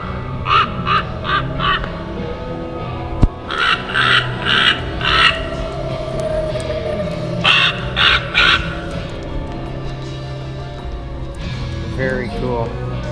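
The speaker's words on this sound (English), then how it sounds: "this is a raven" A Halloween animatronic raven decoration gives bursts of harsh, repeated caws in short clusters, fairly close and loud, with a low background hum and a brief chirp near the end.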